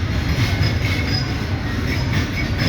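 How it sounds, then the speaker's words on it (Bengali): A very long freight train rolls past close by near an airport railway line, with a steady, loud roar of wagons, rumbling wheels and faint squealing throughout. "আর এ পর্যন্ত গাড়ি যাইতেই আছে। বিশাল লম্বা এক ট্রেন।"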